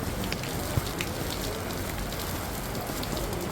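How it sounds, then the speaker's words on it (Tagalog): Heavy rain pours steadily onto surfaces close by, a dense continuous hiss with scattered droplet patter and no talking. "Hala, ang lakas naman ng ulan."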